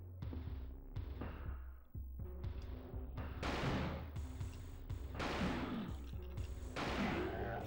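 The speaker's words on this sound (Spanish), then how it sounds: "Tres disparos, que son 9 balas, atentos, porque tiene 3 cañones" Shotgun blasts from a three-barrelled gun in the PS1 survival-horror game Alone in the Dark: The New Nightmare, sounding as a series of sharp booming shots with ringing decays, the later ones heavier and more spread out.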